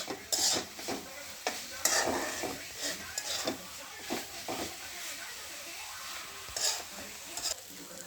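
Spring onion greens are stir-fried in a pan, with a soft sizzle under repeated scraping and clattering strokes of a spatula at an uneven rhythm.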